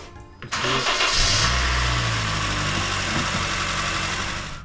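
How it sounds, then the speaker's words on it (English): A 2008 Honda Fit engine cranks and catches after a brief pause following a valve adjustment, revs up briefly, then settles into a steady idle, close and loud. "We're going to run this thing, see how the engine sounds"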